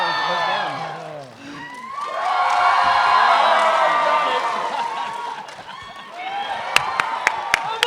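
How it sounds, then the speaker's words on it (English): Audience at a Power Morphicon 2018 convention panel cheers and whoops, swelling into a loud crowd roar, then fading to scattered claps at the end, with a speaker's voice at the start. "Give me your pity applause."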